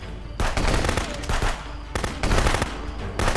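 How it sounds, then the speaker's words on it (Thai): Loud bursts of automatic AK rifle fire from the video game Contraband Police, in close rapid volleys broken by short pauses. "ยิงต่อไป ยิงต่อไป"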